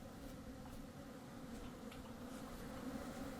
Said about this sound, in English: Now there are big angry bees around